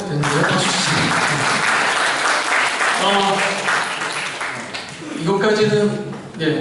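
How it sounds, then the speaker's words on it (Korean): Audience at a student chapel service claps in a sustained burst of applause while someone speaks over it. "박수 쳐야 되는데요? 박수 치세요."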